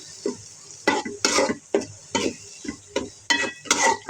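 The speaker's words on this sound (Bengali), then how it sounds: "এটা এখন ভাজা ভাজা করবো।" Broken fish pieces sizzle in a hot pan with cumin as a spatula stirs them in quick, rhythmic scraping strokes, about ten distinct sweeps over a steady frying hiss.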